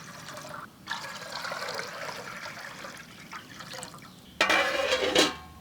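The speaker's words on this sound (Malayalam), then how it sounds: "അളന്ന് വെച്ച് വെള്ളം ഒഴിച്ചു കൊടുക്കുകയാണേ." Measured water is poured into a cooking pot for ghee rice, giving soft intermittent splashing and trickling that ends in a louder, fuller pour, with no voices.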